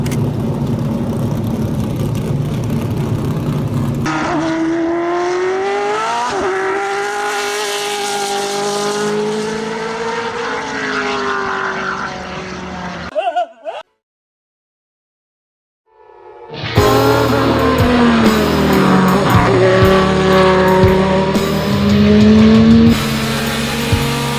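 Dodge Viper GTS-R race car engine roars loud and close, rising and falling through gear changes with a brief dropout, then returns with high revving passes.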